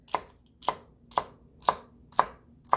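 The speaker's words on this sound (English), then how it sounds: "if you want to just chop celery, if the recipe doesn't really specify, you just cut it in half" A knife chops celery on a cutting board in six evenly spaced, crisp strikes about half a second apart, each a sharp close knock followed by a short crunch, with no voice.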